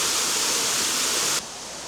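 Rushing water from Hafod Arch waterfall in Clydach Gorge, South Wales, roars as a steady broad hiss, then drops abruptly to a quieter level near the end.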